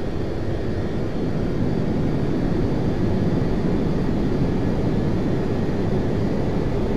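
A steady, loud aircraft engine drone from Flight Simulator X fills the scene, a continuous low roar with no break and no talking, as the plane climbs near Friday Harbor.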